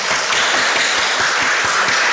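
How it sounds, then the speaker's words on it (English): Sustained applause from a general membership meeting audience, a dense steady wash of many hands clapping, loud and close, with no voices over it. "Let's give her another round of applause."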